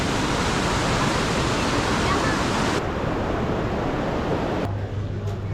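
Hot spring water at Manikaran in India pours and steams in a loud, steady rush of broadband noise that continues throughout, with a slight change in texture partway through.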